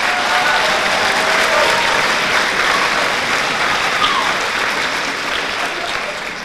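Loud, dense applause from the audience at a high school spring orchestra concert for the band students, a continuous roar of clapping with some crowd noise that tapers slightly toward the end.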